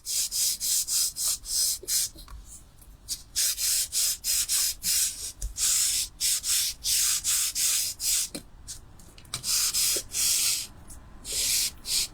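A tool rubbed firmly over a card in repeated quick strokes, close and loud, a rhythmic scratchy burnishing with short pauses between bursts.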